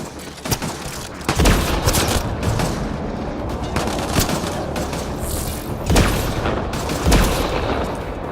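Heavy gunfire in the video game Mass Effect Andromeda, loud bursts of weapon shots and booming impacts in irregular volleys over dense combat noise, close and continuous.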